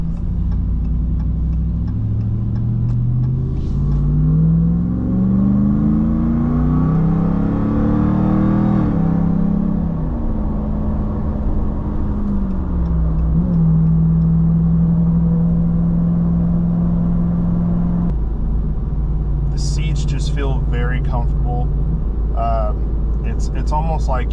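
Supercharged 6.2-liter V8 Ram TRX pickup on the highway in sport mode, engine droning and rising in pitch through gear changes, then settling into a steady cabin hum with brief clicks near the end.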